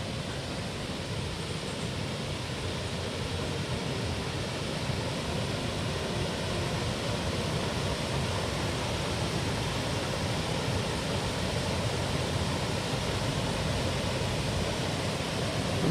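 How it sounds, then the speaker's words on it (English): A small waterfall on a river gives a steady, unbroken rush of falling water, broadband and even, heard from a moderate distance with no voices over it. "There's a small waterfall here."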